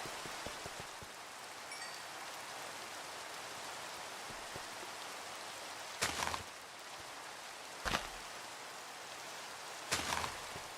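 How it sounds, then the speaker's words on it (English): Steady rain in Minecraft patters and hisses continuously, with a few sharper bursts of noise punctuating it near the end. "And it's raining."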